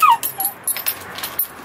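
A dog whimpers and yips in short, high-pitched whines, close by, several soft cries in quick succession.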